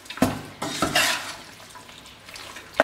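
A spoon clatters and scrapes through a spiced liver mixture with turmeric and curry leaves in a pan, giving a few short, close stirring bursts with light wet sizzle.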